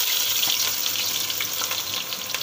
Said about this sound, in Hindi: ये देखें गरम मसाला हम डाल रहे हैं, तेल गरम हो चुका है हमारा।